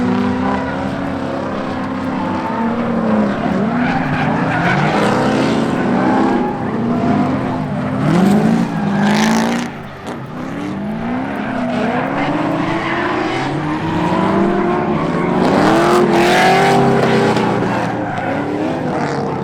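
Drift cars hot-lapping a track together in a continuous session, with engines revving up and down and tires squealing repeatedly, loud and near with cars passing by throughout.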